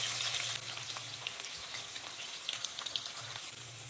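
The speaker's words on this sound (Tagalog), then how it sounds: "Sa ibang kawali, painitin ang mantika, tsaka iprito ang patatas at carrot." Potatoes and carrots fry in hot oil in a pan, a dense crackling sizzle with scattered pops and light stirring, close and steady without any voices.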